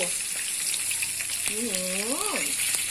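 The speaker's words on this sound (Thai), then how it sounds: "เคี่ยวให้เหนียวเลยแล้วก็ชิมรสชาติดู" A tamarind, palm sugar and fish sauce sauce cooks in a pan with a steady close sizzle and light scraping, while a voice speaks briefly over it.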